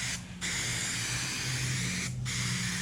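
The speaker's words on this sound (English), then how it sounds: "aerosol paint" Aerosol corrosion-protection spray on the back side of a replacement rear quarter panel for a 1968 Chevrolet Nova, hissing steadily and loudly throughout with two brief pauses, no talking.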